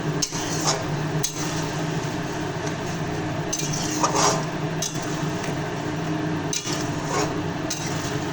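A spoon clinks and scrapes in a pan while fried potatoes are stirred into a curd-based fish curry, intermittent knocks over a steady background hum.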